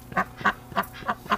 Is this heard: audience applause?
no